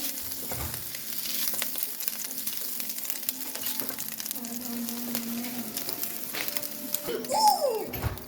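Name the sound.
rice stir-frying in a wok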